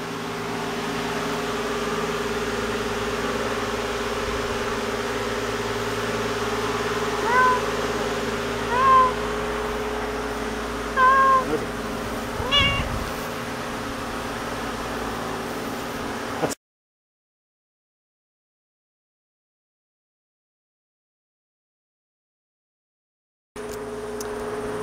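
A cat gives a few short, thin meows over a steady loud hum of background noise, then the sound cuts out into silence for several seconds before the noise briefly returns.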